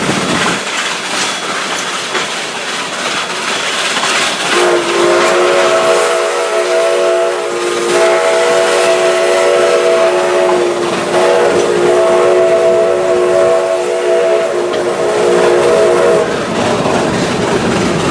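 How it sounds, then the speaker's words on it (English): An oil-fired antique steam locomotive runs loud and close, with a steady mechanical rumble under a long, sustained multi-tone whistle blast that starts a few seconds in and holds for about eleven seconds before cutting off. "This is an oil-fired steam locomotive."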